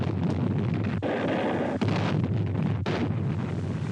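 World War II Navy guns shell Mount Suribachi: low, rumbling booms and a sharp crack roll over a constant roar of wind noise, loud and unbroken, with no talking.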